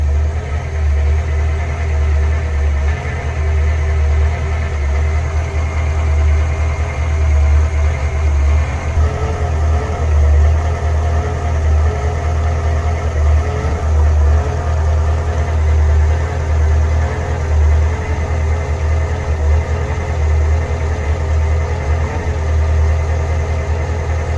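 A Crusader big-block marine engine runs steadily during a raw-water flush service, a deep, even idle rumble with a constant low throb and mechanical hum, close and loud throughout.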